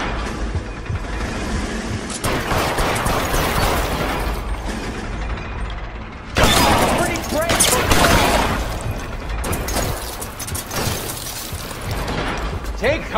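Gunfire in the L.A. Noire crime game: dense, busy bursts of shots and clattering impacts through a loud shootout, swelling sharply about halfway, with voices shouting over the action.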